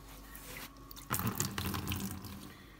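Water sloshing as a sponge is rinsed out in a bucket, starting quietly and then turning into louder splashing and trickling partway through that carries on to the end, close by.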